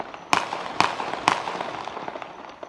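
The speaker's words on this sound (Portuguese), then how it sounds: "Os assaltantes atiraram várias vezes para amedrontar a população." Three sharp gunshots ring out about half a second apart at night in a town during a bank robbery, fairly loud and echoing, followed by faint scattered crackles.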